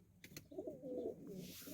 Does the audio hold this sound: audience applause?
no